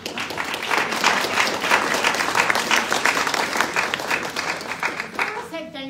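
An audience at a housing rights awards ceremony claps in steady, dense applause, with a voice speaking over it near the end.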